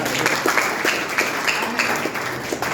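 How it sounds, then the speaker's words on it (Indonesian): Steady applause from a church congregation, a dense patter of many hands clapping at moderate volume with no voices standing out. "Tepuk tangan dulu buat Tuhan."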